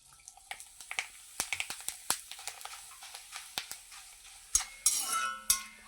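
Grated potato shreds dropped into hot oil for fasting-day crisps sizzle with a run of sharp crackles and pops, building into a louder bubbling hiss near the end, close and with no voices.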